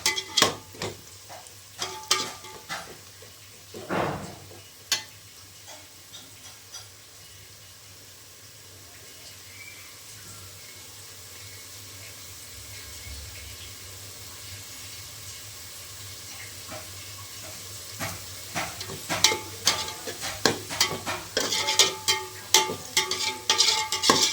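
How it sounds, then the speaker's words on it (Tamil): Onions for chicken biryani sauté in a pan, a low continuous sizzle under scattered scraping and clattering that grows busier and louder toward the end as they are stirred. "வெங்காயத்தை நல்லா வந்து சிவப்பு கலரில் மாறுற வரைக்கும் என்ன பண்ணணும், நல்லா வதக்கிக்கணும்."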